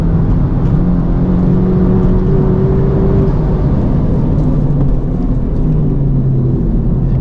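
Honda Civic Type R FL5 with a COBB Accessport 93-octane tune lapping a race track, heard from inside as a loud, steady engine drone with rising and falling pitch as it pulls through the gears.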